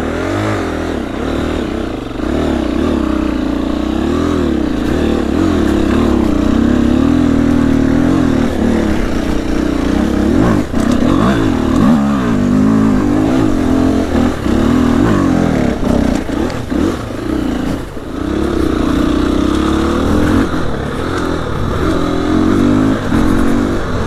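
A Honda CRF300L dirt bike engine revs and strains while riding off-road, the pitch rising and falling through gear changes and throttle blips, loud and continuous for the whole stretch without talk.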